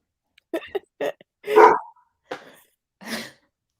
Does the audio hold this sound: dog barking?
yes